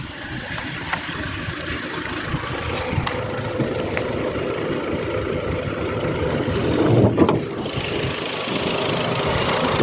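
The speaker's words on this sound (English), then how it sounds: "Very quiet engine, by the way." An Audi TT 2.0 TFSI engine idles with a low, steady, quiet rumble that continues without a break.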